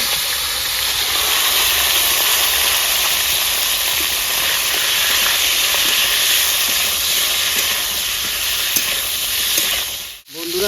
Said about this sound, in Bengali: এই তেলে ফুলকপিটা ভেজে নেবো